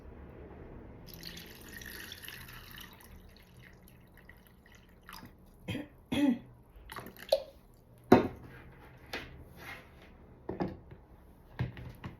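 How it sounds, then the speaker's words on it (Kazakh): Filtered, boiled water is slowly poured onto soaked almonds to make almond milk, giving faint irregular drips and small splashes that grow more frequent toward the end, with no talking. "Қазір ол суды жайлап қосып отырып, үстіне су қосамыз."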